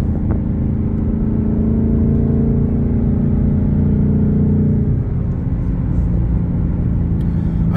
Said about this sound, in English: I think the exhaust is just about right.